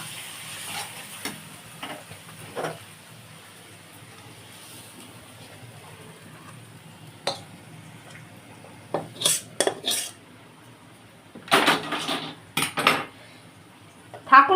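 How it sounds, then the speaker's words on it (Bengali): A cooking pot of taro greens with shrimp is handled and taken off the heat. Scattered metallic clanks and scrapes of pot and utensils come in irregular bursts over a faint background sizzle. "আমি কচু শাকটা এবার নামাচ্ছি বন্ধুরা দেখুন"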